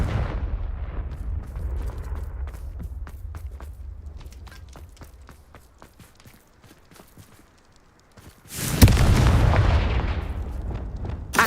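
In the video game Hogwarts Legacy, a Confringo fire spell sets off a sudden loud, booming burst that rumbles on for a few seconds, after a stretch of quiet footsteps.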